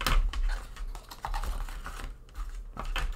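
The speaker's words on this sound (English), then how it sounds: "I'm just going to take my bone folder and go over it" A bone folder is pressed and drawn along the fold of a paper box, giving a run of scraping, tapping strokes at close range that come in short bursts with brief pauses between them.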